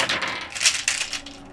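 A Rubik's brand 3x3 cube bursts apart, and its plastic pieces scatter in a quick series of sharp, bright clatters and ticks that last a little over a second, close by with no talking.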